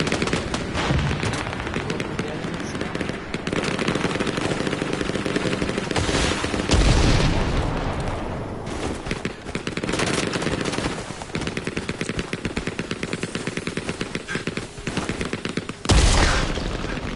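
Sustained gunfire in Hell Let Loose, a World War II shooter: rapid, dense machine-gun bursts run almost continuously, punctuated by heavier blasts near the middle and end, loud and close with no speech.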